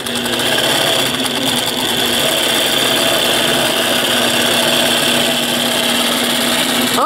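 Millennium longarm quilting machine stitching a quilt under computer guidance, a steady fast mechanical hum and rapid needle chatter running continuously and close.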